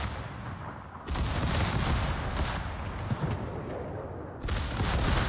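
Secondary battery guns blasting away at the battleship Kongo in World of Warships, a dense, roaring barrage of close, heavy gunfire that rumbles steadily throughout with a few sharper peaks.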